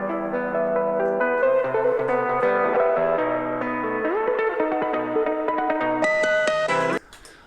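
Guitar intro: bright, plucked nylon-style guitar melody with a nasal, compressed tone and effects, busy and close, stopping abruptly near the end.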